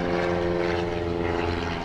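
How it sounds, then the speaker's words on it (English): Propeller aircraft droning steadily overhead above a campsite by a lake, a continuous, fairly loud engine hum with layered harmonic tones and no voices. "Plane, helicopter."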